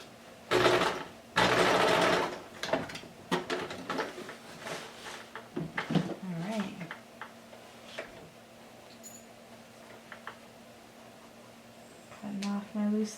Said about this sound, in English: And sew it. Making sure you don't sew on the elastic.